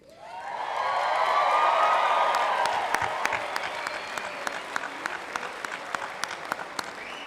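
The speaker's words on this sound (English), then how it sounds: "let's start the celebrations with a real round of applause for all of our graduates" A crowd at a 2019 college commencement ceremony applauds the graduates, clapping swelling quickly to a full roar, then thinning out to scattered individual claps.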